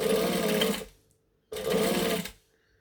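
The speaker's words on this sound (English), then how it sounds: "then I'm just going to stitch and back stitch to hold it" A sewing machine stitching and back-stitching through vinyl for a bag: two close, loud runs of rapid mechanical whirring, each under a second long, separated by a brief silent pause.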